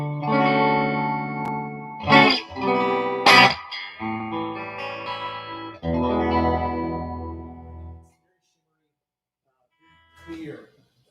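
A clean electric guitar on a 1950s-style wound bridge pickup plays strummed chords and single notes, bright and articulate, then stops and plays a brief final strum.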